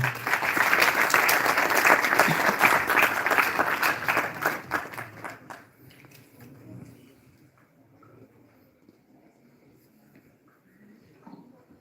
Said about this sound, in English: in rapturous applause, please welcome on stage Mr. Suhail Arif